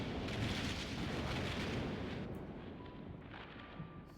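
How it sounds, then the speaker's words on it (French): A heavy, booming rifle shot from the video game Code:Realize ~Guardian of Rebirth~ rumbles out like thunder, fading into a low, faint tail under a rain-like wash. "Son tir de fusil a rugi presque aussi lourd que le tonnerre qui grondait."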